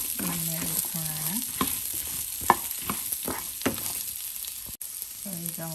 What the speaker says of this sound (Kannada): ಈಗ ಒಂದು ಮೀಡಿಯಮ್ ಸೈಜ್ ಈರುಳ್ಳಿ ಹಾಕ್ತಾಯಿದ್ದೀನಿ. ಸೊ ಇದನ್ನು ಸ್ವಲ್ಪ ಚೆನ್ನಾಗಿ ಎಣ್ಣೆ ಹುರ್ಕೊಳ್ಳೋಣ.